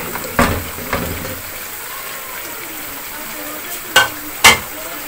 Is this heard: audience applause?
no